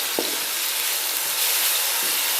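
Dry spices roast in ghee in a pan for chana pulao, giving a steady, fairly loud sizzle and hiss with faint stirring scrapes.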